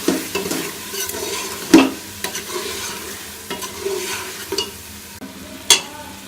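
Meat with dry coriander sizzles as a spoon stirs it in a pot, giving scraping strokes and occasional louder knocks over a moderate frying hiss, with no voices.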